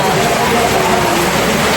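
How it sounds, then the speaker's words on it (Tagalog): Heavy rain pours steadily during house painting work in the Philippines, a dense continuous hiss close by and fairly loud throughout, with no talk over it. "Sobrang lakas po ng ulan."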